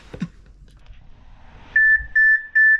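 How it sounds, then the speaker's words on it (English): An RV carbon monoxide detector sounds three loud, steady electronic beeps in a row when its test button is pressed, after a few soft handling noises in a quiet room. "I'm going to test ours by using the button marked test."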